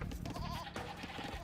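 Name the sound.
goat bleating in video game Age of Empires II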